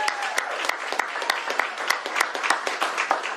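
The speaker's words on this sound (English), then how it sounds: "let's start by giving Estella a huge round of applause" An audience at a governor's bill signing gives a warm round of applause, many hands clapping in a dense, even stream with sharp individual claps, close and continuous with no talking.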